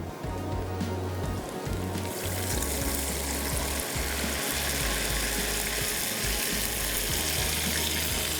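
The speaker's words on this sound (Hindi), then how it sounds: "इसमें डाल देंगे हम यखनी" Stock (yakhni) poured into fried spice masala in a hot pan, giving a steady loud hiss and rushing sizzle that builds after the first couple of seconds and continues without talk.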